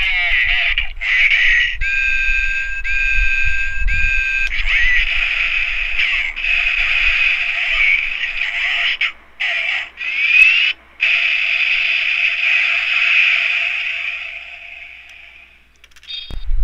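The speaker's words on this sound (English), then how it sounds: "in the tower mode it had this sound effect." Kamen Rider Gaim Sakura Hurricane toy bike in tower mode plays an electronic sound effect: a steady, loud synthetic whirring tone with warbling pitch that runs continuously for about fifteen seconds, broken by two brief dropouts near the end.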